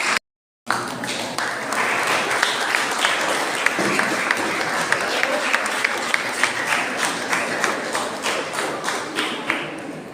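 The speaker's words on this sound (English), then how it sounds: "A big round of applause from your side" Parents and guests at a school award ceremony applaud students after a brief silence, a dense and steady wash of clapping with a few sharper individual claps standing out over about nine seconds.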